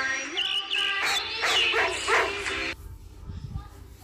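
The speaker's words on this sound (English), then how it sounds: "D for dog." A dog barks and yips in a short burst of several quick, bright barks, close and clear, then cuts off to a quieter background.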